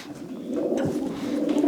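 Pigeons coo softly and continuously in a loft, low rolling calls overlapping in the enclosed space, with faint rustling in the background.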